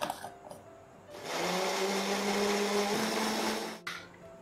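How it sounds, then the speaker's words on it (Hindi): Kitchen blender whirring through coriander, mint, green chillies, garlic cloves and yogurt in a jug for kebab masala, a loud steady motor hum lasting about two and a half seconds after a short quiet lead-in, then cutting off. "तो जग में हम डालेंगे ये कटा हुआ हरा धनिया और पुदीना, हरी मिर्चें, लहसुन के जवे और दही, और इसको ब्लेंड कर लेंगे।"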